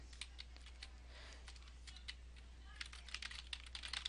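Computer keys clatter in quick irregular bursts of typing, faint and close, over a steady low hum.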